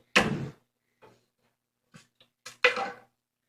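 A household drawer opens and closes in a series of short, close wooden knocks and slides, with two louder thuds at the start and end separated by quieter bumps and clicks.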